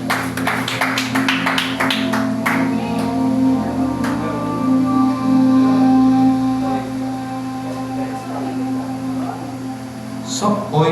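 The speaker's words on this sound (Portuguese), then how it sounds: "Palmas para o Senhor." Church congregation clapping during a service, a burst of rhythmic claps at the start that fades under a sustained organ-like drone and held tones, with sparse claps afterward.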